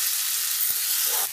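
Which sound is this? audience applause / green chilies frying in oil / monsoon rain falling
green chilies frying in oil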